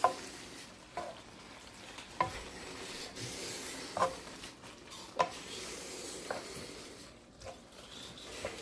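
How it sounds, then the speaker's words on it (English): Steak meat stirred around in oil in a frying pan for Philly subs, a faint steady sizzle with soft scraping strokes and light utensil taps spaced every second or so. "I'm just moving it around to make sure every part is getting some oil on it."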